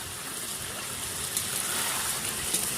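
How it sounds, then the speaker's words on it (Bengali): Water is poured into a pan of simmering chicken curry, giving a soft, steady hiss and gush of liquid that stays fairly faint and even throughout. "সামান্য পরিমাণে একটু আর জল দিলাম।"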